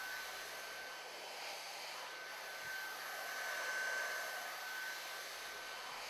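A heat gun blowing hot air around a molded cable boot at an adapter end, a steady close whooshing roar that holds evenly for the whole stretch with no other sound.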